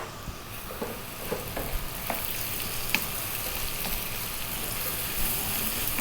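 Ginger garlic paste and onions frying in a pan for a vegan carrot curry, a steady close sizzle with scattered small pops and crackles and no voices.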